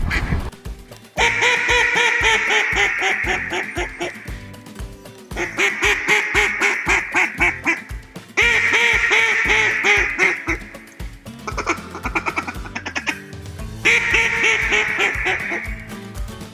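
A hand-blown duck call imitates a hen duck, sounding loud close quacking sequences in repeated runs of rapid, descending calls separated by brief pauses.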